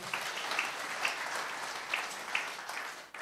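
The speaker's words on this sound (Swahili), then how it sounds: "Tumpigie Elder George makofi" A church congregation at a Sunday service gives a steady round of applause that lasts the whole stretch, full and fairly even, with no talk over it.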